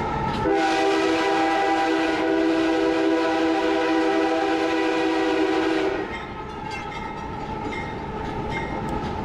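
A freight train horn sounds from the cab in a long, loud, sustained blast for several seconds at a crossing, then cuts off, leaving the rumble of rolling cars.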